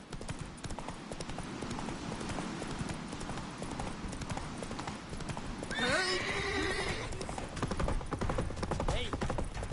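A horse galloping in The Witcher 3 video game, with rapid, rhythmic hoofbeats throughout, a loud, shrill neigh midway, and battle sounds and voices mixed in.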